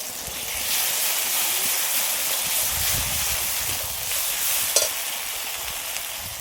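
Ginger-garlic paste sizzles and fries in a pan with onion and tomato for a mutton dish, a steady bright hiss throughout with faint stirring scrapes and one sharp clink near the end.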